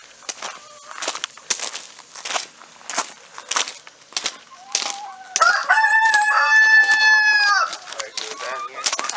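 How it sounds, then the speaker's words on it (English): A rooster crows loudly and close by in a long, harmonic cock-a-doodle-doo, following a stretch of rustling and clucking outdoor farmyard noise. "you stupid rooster."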